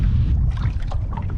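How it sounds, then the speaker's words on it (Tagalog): Steady wind rushing across open water, a dull low roar with gusty buffeting, close to the microphone and without voices. "Malamig, mahangin."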